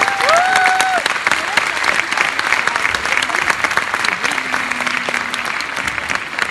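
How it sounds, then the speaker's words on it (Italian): Loud, sustained applause from a large audience greets school pupils at a Sanremo event, with dense continuous clapping and some cheers and whistles rising over it. "li salutiamo con un applauso perché se lo sono meritato tutto qua"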